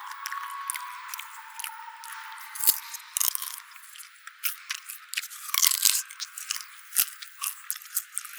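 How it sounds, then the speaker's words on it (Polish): A snack, probably popcorn, crunched loudly and close to the mic as ASMR in a cinema: bursts of crisp crunching and squishy chewing in an irregular rhythm, thin and trebly, with no talking. "Muszę bardzo głośno chrupać."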